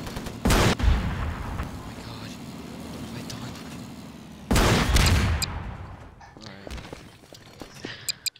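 A tank in a video game using the SCars vehicle addon fires at the player: two loud, booming blasts of gunfire, the second followed by scattered impact clatter, over a steady low background rumble.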